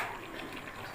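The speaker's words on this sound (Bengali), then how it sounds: "এবার সামান্য গরম জল দিয়ে কষানো হয়ে গেল" Hot water is poured into chicken braising in a pan, giving a steady, close splashing gush that runs through the whole second with no voices.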